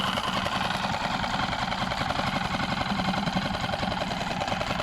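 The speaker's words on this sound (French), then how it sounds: "Le moteur n'est pas encore pas tout à fait chaud, enfin il n'est pas chaud, mais il tourne nickel." A boat engine idles steadily, still cold but running smoothly, with a continuous low-mid throb and fine knocking texture held at an even level close by for the whole stretch, no talk.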